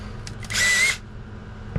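A power drill bores a hole with a bit, one loud whining burst of about half a second standing out from a quiet background, with faint clicks around it.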